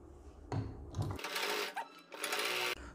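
A sewing machine stitches piping onto a neck pattern in two bursts of steady, fast-running motor whir broken by a short pause, loud and close with no voices.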